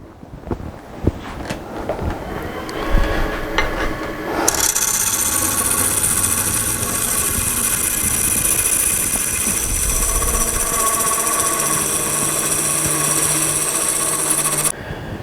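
Wood lathe turning a wooden bowl as the tool cuts out a crack, a loud continuous scraping and hissing cut with a steady motor whine underneath, no talk.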